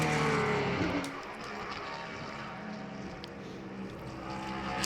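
Grand Touring race car at the SCCA National Championship Runoffs, engine loud and close at first and dropping away after a second into a steady distant drone with faint crowd and track ambience.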